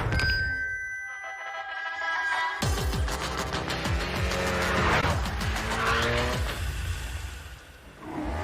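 An all-wheel drive car in a TV commercial revs and swerves, engine pitch sweeping up and down with squealing tires over a steady, loud stretch before fading near the end.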